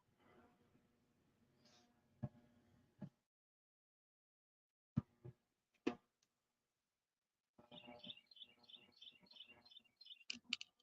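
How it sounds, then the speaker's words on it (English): Birds chirp faintly in the background by the Tennessee River, with scattered clicks and knocks at first, then a run of quick, repeated high chirps near the end. "birds chirping in the background."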